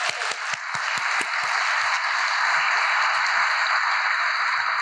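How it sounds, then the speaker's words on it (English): Audience applause at a Lake Oswego Reads author event, a dense sustained wash of clapping from a large crowd filling the room, steady and fairly loud with a few sharper claps at the start. "Please join me in giving them another huge round of applause."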